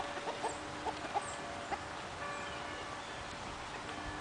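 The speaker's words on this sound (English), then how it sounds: "Oh, there are the chickens." Faint clucking from a few chickens in a small farmstead garden, scattered short calls over a steady outdoor background hiss, somewhat distant.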